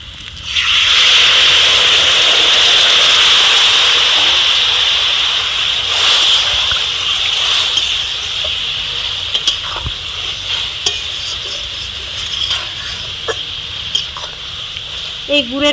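Hot boiled jaggery poured over raw mango pieces for a sweet-sour chutney-style pickle, a loud steady sizzle and bubbling at first that eases into softer simmering with light stirring clinks and small knocks.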